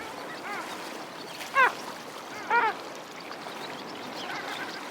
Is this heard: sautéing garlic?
no